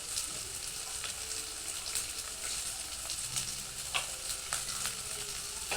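Chopped green chili, onion, salt and turmeric sautéing in a pan, a soft, steady sizzle with scattered stirring scrapes and taps, fairly quiet and close, with no talking over it.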